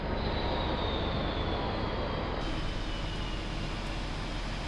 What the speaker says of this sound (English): I'm going to turn off the engine now.